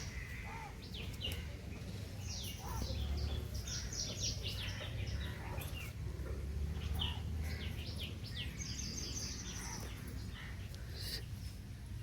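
Birds call and chirp repeatedly in the distance, crows cawing among them, over a steady low hum with no talking, at a secluded Swami Samarth math near a creek in Thane.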